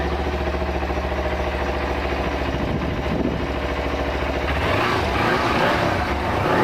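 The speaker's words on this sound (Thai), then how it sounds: "เครื่องเงียบมากนะครับ" A Kawasaki Z250 motorcycle idles close by with a steady, smooth, fairly quiet engine hum, and the revs lift slightly toward the end.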